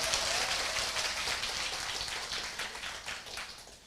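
An audience at a seminar talk claps: dense, continuous applause that holds steady and slowly tapers off, with no voices over it.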